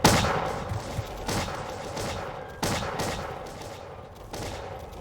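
Musket volley fire in a battle game set among European armies, several crackling fusillades bursting at intervals about every second or so, medium loud against a busy battlefield din, with no talking.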